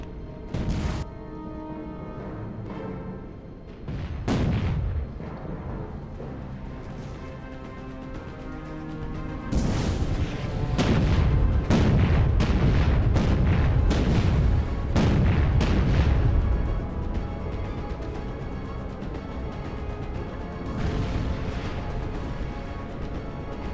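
Enemy artillery and gunfire in the naval combat game Battlestations Pacific: loud booming blasts and bursts of firing, with repeated sharp hits and a dense, sustained barrage in the middle, over steady background rumble.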